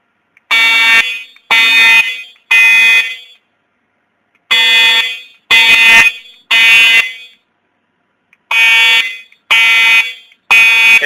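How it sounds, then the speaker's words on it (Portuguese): A loud school fire alarm blares during an evacuation drill at Colégio PM in Campinas, sounding in groups of three long harsh buzzing blasts separated by silent pauses, repeated three times. "Foi reportado um alarme de fogo no edifício."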